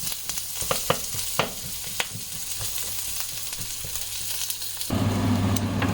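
Chopped shallots sizzling and frying in a pan for a cod dish, a steady bright crackle with occasional louder pops and stirring clicks, growing denser and louder near the end.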